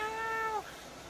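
A pet cat cries inside a hot truck during a drive, one long, drawn-out meow with a clear harmonic wail that breaks off partway, leaving the faint hum of the moving vehicle underneath.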